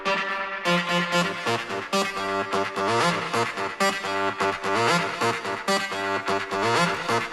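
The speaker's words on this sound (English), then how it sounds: "for that I've been using a 303 sound, which I made stereo, and it sounds like this." A stereo 303-style synth bass line with reverb and delays pulses continuously in a busy, distorted electronic pattern, with echoing repeats filling the space and no talking.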